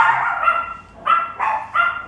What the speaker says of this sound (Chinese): 这个叫声是我家里面的两个小狗